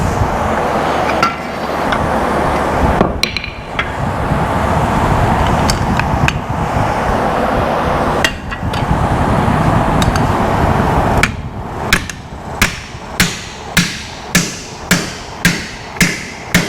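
A hammer strikes a chisel on metal during repairs on a 2000 Ford F350 Powerstroke. Irregular heavy thuds and scraping lead into a run of sharp, evenly spaced ringing blows near the end.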